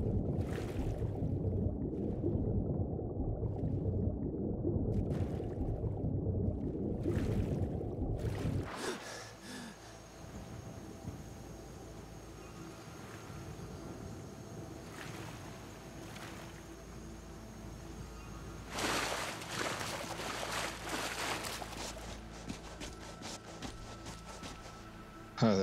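In the video game Skyrim Special Edition, heavy, steady sloshing and splashing of a character wading into frigid water for several seconds, then it thins out to a quieter, hissing ambience with a few soft splashes.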